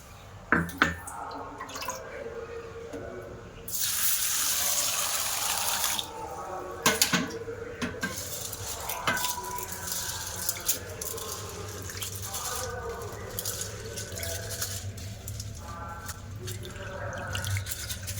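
Uncooked aatap rice being rinsed clean in water, with splashing, dripping and a stretch of running tap water, fairly close and moderately loud, with no talking.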